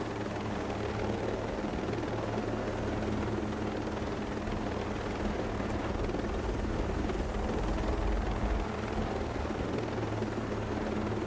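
An armed helicopter in the video game Ghost Recon Breakpoint flies low over treetops, its steady rotor thrum and engine roar loud and continuous throughout, with no talk.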